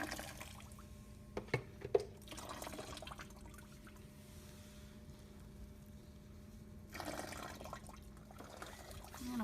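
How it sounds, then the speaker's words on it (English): Water being poured over a patient's hair into a collecting tray, a soft trickling and splashing that comes in two brief faint bursts with quiet pauses between, close by in a calm room. "pour the water onto your patient's hair"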